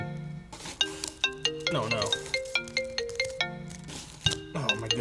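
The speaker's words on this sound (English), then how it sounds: "my phone's ringing" A mobile phone plays a bright, repeating melodic ringtone close by, with regular chime-like notes over several seconds, a short spoken word at the start.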